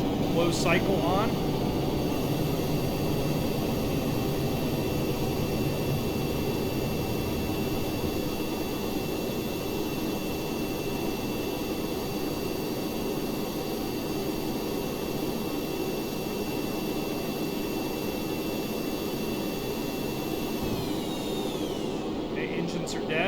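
Spaceplane engines in Kerbal Space Program running in closed-cycle mode, a loud, steady broadband roar with a sustained whine that holds for over twenty seconds before shifting near the end.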